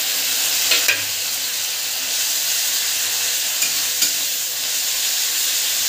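Garlic and ginger paste frying in oil makes a broad, steady hiss close by, with a couple of light scrapes and taps from stirring.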